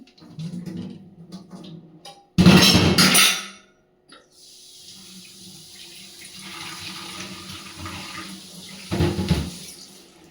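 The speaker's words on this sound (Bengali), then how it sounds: "একটু আলু সেদ্ধ বসিয়েছিলাম, এবার ওটা জল ঝরিয়ে নেব।" Water is poured off boiled potatoes in a home kitchen, a loud gushing splash near the start, then a softer running trickle and a second short splash near the end.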